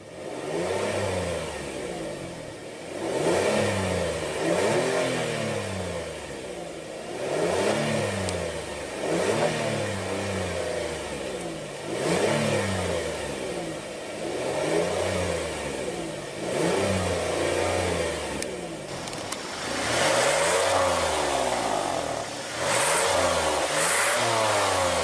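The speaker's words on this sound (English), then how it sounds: "let's go ahead and rev it up." A 2016 Kia Sorento engine revs repeatedly in a steady rhythm of rising and falling surges, close and loud, each burst climbing then dropping back, with no talking over it.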